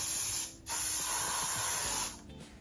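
Hairspray hisses onto a freshly pinned, messy updo in two long, steady bursts, close to the mic, with short gaps before, between and after.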